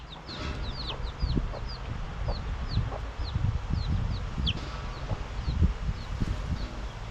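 Chicks in a garden peep and cheep steadily while pecking at feed, with soft clucking from the hen nearby and scattered pecking taps close by.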